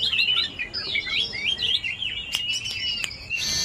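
A caged pet songbird kept for singing contests sings a rapid, high, warbling run of chirps and trills, close and loud, with a few sharp clicks near the end.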